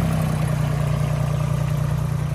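A miniature railway engine at Rudyard Lake runs close by with a steady, low pulsing throb as it moves around to re-couple to its carriages.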